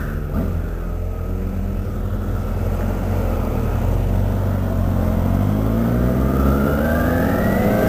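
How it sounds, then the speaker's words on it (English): A Kawasaki ZX14 motorcycle with twin carbon fiber Yoshimura exhausts rumbles loud and close, with a deep continuous engine roar that builds and rises in pitch as it revs, heard alone without talk. "the ZX14 here on my left, he's got two twin carbon fiber Yoshi exhaust"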